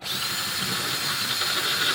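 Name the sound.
power drill drilling out aluminum handguard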